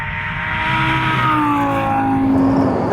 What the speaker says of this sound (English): The V10 engine makes an amazing noise.